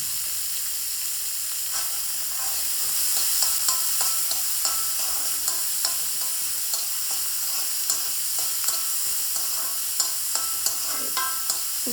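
Oil sizzling in a pan for fenugreek curry, a steady quiet frying hiss broken by repeated light scraping and tapping as the contents are stirred, with no voices.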